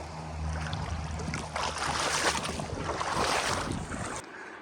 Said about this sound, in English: Wading across the river here.